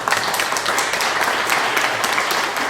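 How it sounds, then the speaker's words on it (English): Dense, steady applause from an audience, many hands clapping together throughout at an even, lively level. "let's give them a round of applause"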